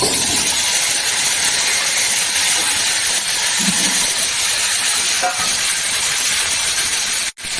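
Chopped tomato, onion and ridge gourd sizzling loudly in a hot pan of oil for a fish curry, a dense continuous hiss and crackle that runs steadily throughout, with a brief clank near the end.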